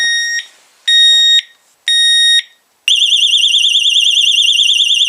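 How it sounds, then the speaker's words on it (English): Three loud electronic beeps in a steady rhythm, then a continuous warbling, wavering alarm tone, shrill and close, from a disc brake lock alarm on a KTM 690R motorcycle. "you hear that little beep going on?"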